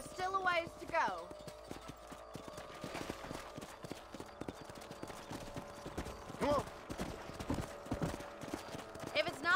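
Steady clip-clop of horses' hooves during a ride across a ranch property in Red Dead Redemption, a close rhythmic patter with an occasional whinny, with a voice speaking briefly over it.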